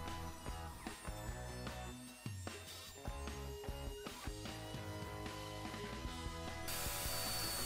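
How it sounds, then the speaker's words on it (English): A router whines loudly up close as it rounds over the outside edges of a wooden bar stool, with a continuous buzzing tone broken by rattling, clicking variations. "Next I rounded over all the outside edges using my router."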